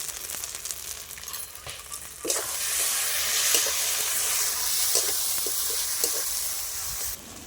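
Tomato pieces and turmeric sizzle and fry in hot oil for egg biryani, a steady frying hiss that swells louder partway through with occasional stirring scrapes, close and continuous, no talking.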